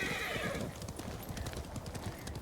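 A horse gallops with fast, steady hoofbeats in Ghost of Tsushima, a continuous rhythmic clatter under ambient game noise.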